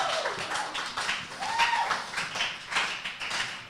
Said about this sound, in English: Please, I think Gabby deserves another round of applause